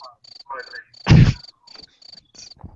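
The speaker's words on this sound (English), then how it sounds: "before you're interrupted by those crickets" A cricket sound effect chirps in short, evenly spaced bursts, fairly close and clear, broken once by a brief loud thump in the middle.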